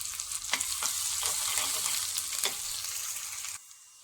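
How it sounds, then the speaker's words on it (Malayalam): Mustard seeds spluttering in hot coconut oil in a pan, a close continuous sizzle with sharp crackling pops scattered throughout, then it drops away abruptly near the end. "അതിലേക്ക് 1 സ്പൂൺ വെളിച്ചെണ്ണ ഒഴിച്ചു കൊടുക്കാം. അതിലേക്ക് 1/2 സ്പൂൺ കടുക് ഇട്ട് കൊടുക്കാം."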